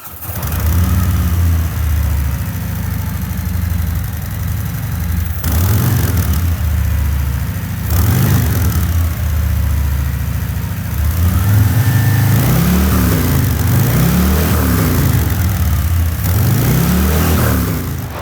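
A Harley-Davidson motorcycle fitted with a 49-state compliant aftermarket exhaust pipe rumbles loud and close, a deep, steady idle broken by repeated throttle blips that swell and fall in rhythmic waves, with no talking.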